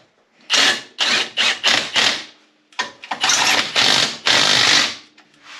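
Socket tool driving the rear axle nuts on a 2025 RZR 800 S, loud close bursts of whirring and rattling in quick clusters with short pauses between.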